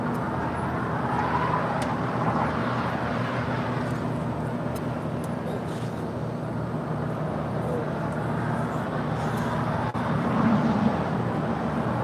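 An airliner starts its takeoff roll on runway 25 right at LAX, heard as a steady, broad jet roar from a distance, with a brief thump near the end.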